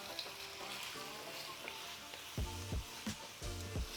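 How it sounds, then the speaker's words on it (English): Thin triangular potato slices sauté in a tadka of hot oil, giving a quiet steady sizzle. Several louder clattering scrapes near the end come from stirring them in the pan, close up. "So just add it to the tadka. Saute it for a minute."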